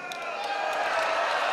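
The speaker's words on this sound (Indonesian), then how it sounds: "Ini tepuk awal sangat." Audience applause at a Labour Day 2023 (Hari Pekerja) celebration event in a hall, a steady wash of clapping from many hands, sustained and moderately loud throughout.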